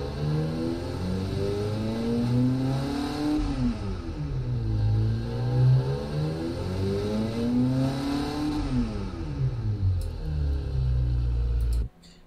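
Pickup truck engine with baffled mufflers in the BeamNG driving game, revved up and down in long smooth sweeps, loud and slightly muffled, cutting off abruptly at the end.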